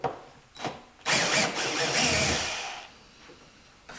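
A power driver backs screws out of the front baffle of a vintage Fender rotating speaker cabinet: two short clicks, then a loud whirring burst of about two seconds that fades away, close up.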